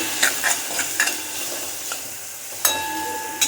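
Onion sautéing with ready-made ginger garlic paste in a pan: a soft sizzle runs underneath while a spatula scrapes and taps the pan in several close strokes, with a sharper clatter near the end.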